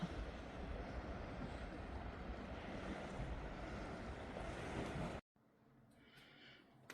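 Sea waves wash in at night on the Odesa shore with a continuous loud rush and surf noise mixed with wind, which cuts off abruptly and leaves a faint quiet hiss.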